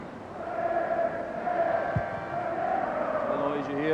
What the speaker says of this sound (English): The noise you hear coming principally from Scottish supporters inside the stadium.